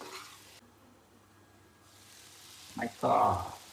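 Spices for home-cooked butter chicken hit a hot pan near the end, giving a sudden loud sizzle and crackle of sautéing after a quiet stretch of faint kitchen noise.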